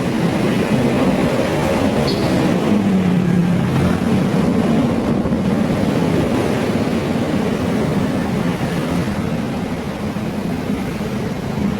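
A loud, continuous engine rumble and roar from heavy street traffic full of motorcycles along EDSA at Kalayaan Avenue in Makati, droning steadily without a break and heard up close.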